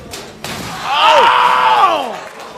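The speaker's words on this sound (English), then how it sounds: "Slammed that garbage can onto the knee of Human Tornado" During a wrestling cage match, a garbage can is slammed onto a wrestler's knee with a sharp, loud impact. It is followed by a rising and falling groan from the crowd.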